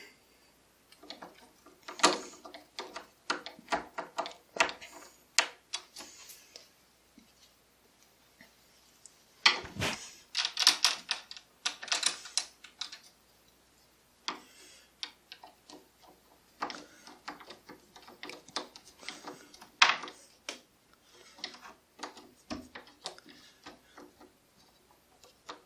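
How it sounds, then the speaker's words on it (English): A hand screwdriver clicks and ratchets in short irregular bursts while driving two screws into a Schlage door lock, close and fairly quiet, with pauses between turns. "So we're going to just screw the 2 screws in place"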